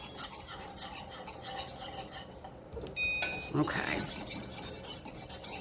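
A spoon scrapes and clinks inside a pot as caramel filling for apple pie is stirred, quiet steady stirring under a low hum, with a louder metallic clatter partway through and a brief spoken word.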